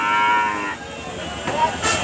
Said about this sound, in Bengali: এগুলা ছোট বাছুর 5 মাস করে বয়স